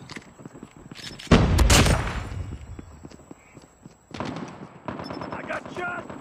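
Gunfire in a video game, several loud bursts of close shots with quieter rapid shots and footsteps between them, and game voice callouts heard over the action.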